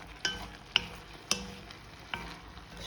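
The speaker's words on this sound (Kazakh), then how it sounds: "Жақсылап тұрып араластырып отырамыз, күйіп қалмас үшін." Meat and paprika fry in a pan on a large flame, with a constant low sizzle under four distinct metallic stirring clanks spaced roughly half a second apart.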